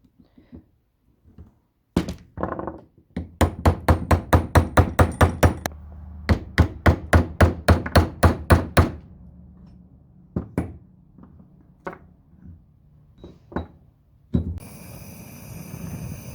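Repeated hammer blows knock an old bushing out of a sway bar end link, sharp metallic knocks in fast bursts of a dozen or so, then scattered single strikes and a hiss of a torch at the end.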